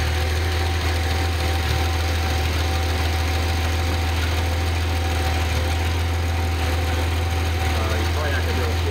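A Datsun engine idles on a run stand, giving a steady, loud, close mechanical drone with a low hum and no change in pace. Someone talks over it now and then.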